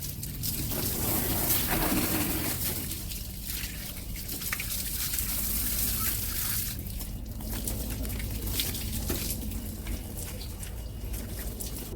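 Water gushes and splashes over a soaped Toyota Lexus as the suds are rinsed off, a broad continuous spray with shifting intensity, loud and close, with no one talking.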